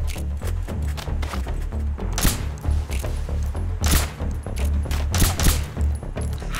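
Rapid gunfire in a Metal Gear Solid 3 boss fight, dense loud volleys of shots and impacts layered over game music, continuous and close throughout.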